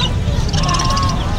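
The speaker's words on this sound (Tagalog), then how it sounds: "Tapos meron siyang mga gansa." Geese honk and quack in a short burst at an outdoor animal market, close and fairly loud over steady crowd noise and talk.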